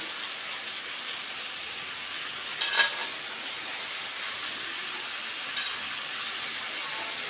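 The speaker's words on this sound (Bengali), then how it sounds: "এখন আমি পালং শাকগুলো দিয়ে দেবো" Potato, eggplant and shrimp fry in oil as spinach is added, giving a soft continuous sizzle with a couple of brief rustling stirs, moderately quiet and without talk.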